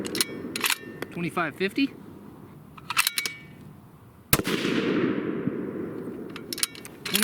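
A Bergara Premier rifle in .308 Winchester firing 175-grain Aeromatch bullets cracks once with a loud, sharp report followed by a long, decaying echo, while a voice reads out numbers before and after the shot.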